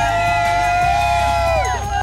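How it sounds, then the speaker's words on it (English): A crowd cheers at a Sooners football tailgate, a loud, sustained wall of voices with high sung and shouted tones ringing through the roar. "And cheering."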